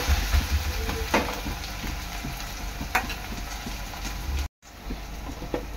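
Masala paste sautéing in hot oil in a pan for a Maharashtrian black-eyed pea and potato bhaji, a steady close sizzle with scattered stirring scrapes and one brief dropout near the end.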